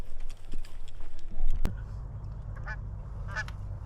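A flock of geese calling overhead during a waterfowl hunt, with scattered honks at mid distance, voices talking nearby and a sharp bang partway through.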